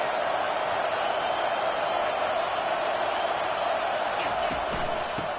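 A loud stadium crowd in an NCAA football video game, Texas against Georgia Tech, roars in a continuous dense wash of noise, with faint game sounds near the end.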